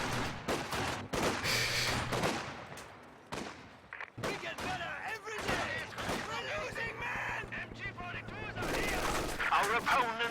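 Soviet Maxim machine gun fire in a Company of Heroes 2 match, rattling in long sustained bursts mixed with other gunfire and distant explosions, with a voice speaking over the battle throughout.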